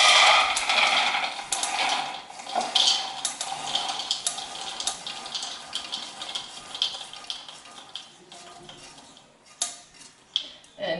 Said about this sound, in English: I'm going to pour these out into a bowl so that they cool